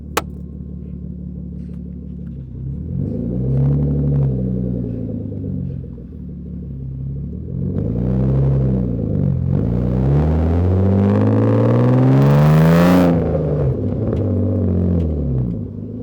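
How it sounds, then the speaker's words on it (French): A car engine revs hard with the microphone pressed right against the car, several rising and falling revs building to a loud, high peak near the end before settling back to idle. "je vais coller le micro à ta voiture."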